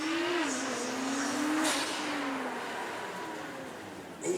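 A Nissan GT-R R35 at a supercar weekend passing with its twin-turbo engine droning and rising in pitch, loud and near, then fading away as it moves off.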